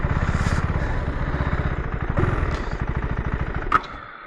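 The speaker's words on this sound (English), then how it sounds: "As the boys are out on the bikes." KTM 390 Adventure R motorcycles ride past with a steady pulsing single-cylinder engine throb, loud and close, with a brief sharp clatter near the end.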